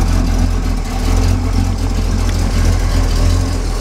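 A 1969 Pontiac Firebird with a 400 engine and a TKO 600 five-speed, heard from inside while driving: a steady, loud engine drone with road rumble runs throughout, and no one speaks.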